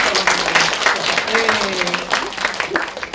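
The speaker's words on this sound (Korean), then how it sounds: "박수 주세요" Audience applause at a film screening Q&A with actors, steady crowd clapping throughout, with voices talking over it.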